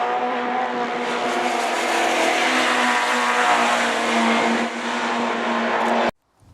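An MGB sports car with a four-speed manual gearbox and overdrive drives along, its engine droning loud and steady at close range for about six seconds before the sound cuts off abruptly.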